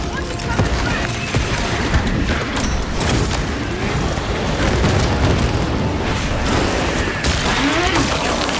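A frag grenade detonates amid Warhammer 40K Space Marine combat, with booming blasts and rumbling bursts layered over continuous loud battle noise and gunfire.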